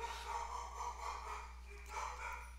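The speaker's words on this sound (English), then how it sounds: "sorry about my dogs barking." Dogs bark faintly in the background in a few short bursts indoors, quiet and distant beneath a steady low hum.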